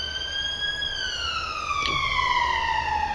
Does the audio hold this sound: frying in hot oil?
no